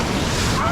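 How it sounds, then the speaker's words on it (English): Strong wind at the ocean batters the microphone in a brief, loud, unbroken rushing roar. "you guys probably can't even hear me because of how windy it is right now"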